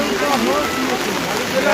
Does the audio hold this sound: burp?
no